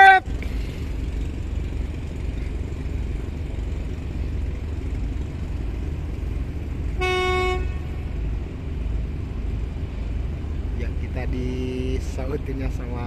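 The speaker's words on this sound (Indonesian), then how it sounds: "Disautinnya sama klakson." A tugboat's horn on the Mahakam river sounds one sustained toot in answer to a passing ship during a rig tow. It is followed later by shorter horn blasts over a steady engine rumble, with talk throughout.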